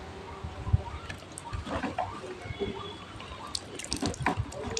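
A child cleaning his bicycle with water makes irregular splashes, drips and soft wet scrubbing sounds at close range, fairly quiet and scattered, without speech.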